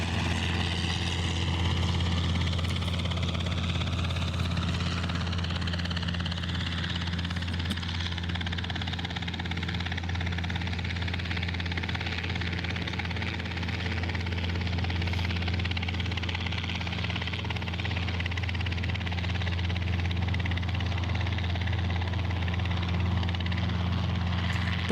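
A Robinson R22 light training helicopter flies nearby with a steady, buzzing rotor and engine drone, like a lawnmower, holding an even level throughout with no talk.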